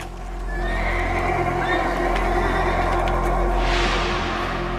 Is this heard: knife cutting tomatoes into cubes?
no